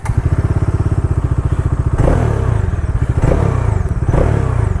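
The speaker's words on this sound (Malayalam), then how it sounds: "നമുക്ക് ഇതിൻ്റെ എക്സോസ്റ്റ് നോട്ടൊന്ന് കേട്ടിട്ട് നമുക്ക് ഓടിക്കാം." A 2023 Bajaj Dominar 400 motorcycle idles with a loud, close, grunty exhaust note, a steady rapid thump that swells into a few revs and blips of the throttle, with no talk over it.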